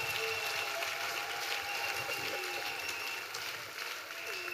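A church congregation claps for Jesus in steady, dense applause that fills the hall for the whole stretch, with a faint murmur of voices underneath.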